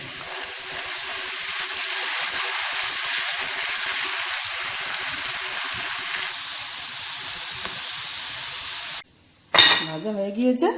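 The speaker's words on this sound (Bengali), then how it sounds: "তেল গরম হয়ে গিয়েছে, আলুগুলো দিব।" Potatoes sizzle steadily in hot oil in a wok on low heat, a dense, even hiss that runs continuously and close, then breaks off near the end with a few louder clatters and bubbling bursts.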